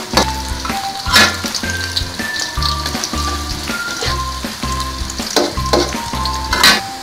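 Onions fry until soft in a pan for Bengali chicken korma, a loud, crackling sizzle with stirring over steady background music.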